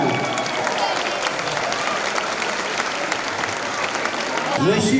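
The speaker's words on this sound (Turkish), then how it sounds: "Çok büyük alkışlarınızla" An audience at a culinary event in a historic caravanserai breaks into sustained applause, dense and steady clapping filling the room for several seconds.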